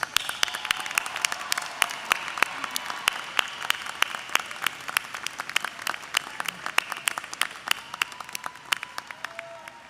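Lively audience applause at a college commencement for legacy graduates of the class of 2022, with many sharp, distinct claps standing out over a steady crowd wash, moderately loud throughout.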